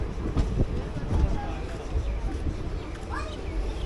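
A train hauled by a WDM 3D diesel locomotive rolls into Madukkarai station, its low rumble and wheel clatter heard from on board, moderately loud, with voices mixed in.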